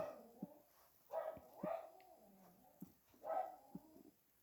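A dog in a Roblox savanna game gives a few short, faint barks and yips spread over several seconds against a quiet background.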